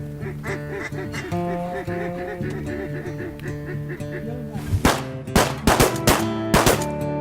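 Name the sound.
shotgun shots while waterfowl hunting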